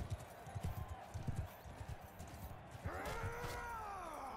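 A galloping horse in the video game Mount & Blade II: Bannerlord pounds out rapid hoofbeats. A loud whinny cuts in near the end over the continuing gallop.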